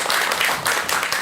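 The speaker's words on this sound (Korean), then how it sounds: "큰 박수 좀 부탁드릴게요." Loud, close applause from a lecture audience fills the room, a thick continuous wash of clapping hands without speech.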